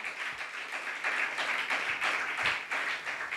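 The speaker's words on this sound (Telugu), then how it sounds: "ఇప్పుడు కొట్టండి గట్టిగా చప్పట్లు" A church congregation claps steadily together in a hall, making a dense, rhythmic wash of handclaps. It holds at an even, moderate level throughout, with no voices over it.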